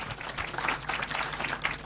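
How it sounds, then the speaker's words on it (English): Applause for the panelists at a Senate induction retreat: a crowd claps steadily and fairly close, a continuous patter of many hands without a pause. "I'd like us to give a good applause to the panelists"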